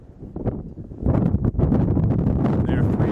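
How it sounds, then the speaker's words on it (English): Gusty wind buffets the microphone at an outdoor college baseball game, a rough, loud rumble that swells after the first second and keeps roaring. "Gusting wind here"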